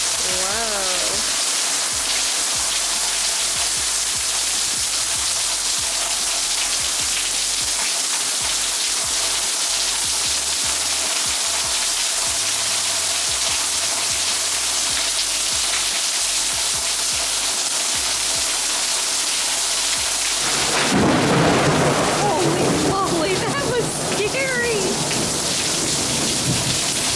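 Heavy thunderstorm heard from inside a bedroom doorway: a steady, dense roar of rain drums on surfaces throughout, then a loud thunder crack bursts in near the end and rumbles on over the downpour.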